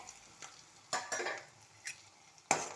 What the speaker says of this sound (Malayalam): എന്നിട്ട് ഇളക്കാം.